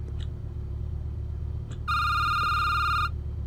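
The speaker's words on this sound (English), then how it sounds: "Is it waiting for me to answer the phone?" An electronic telephone ring sounds once in a horror video game, a steady trilling burst of about a second over a low ambient hum.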